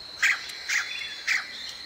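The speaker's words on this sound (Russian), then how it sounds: "там такой шум от птиц" Ambient birds calling in the military video game ArmA 2: three short, bright chirps spaced about half a second apart over a steady faint background hiss, with no voices.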